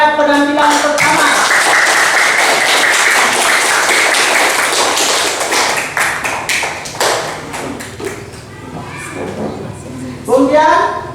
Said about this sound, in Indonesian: kita beri tepuk tangan kepada penampilan pertama